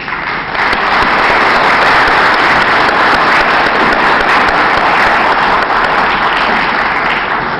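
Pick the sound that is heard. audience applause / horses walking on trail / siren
audience applause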